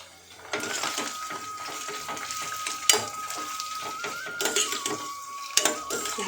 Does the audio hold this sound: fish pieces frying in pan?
yes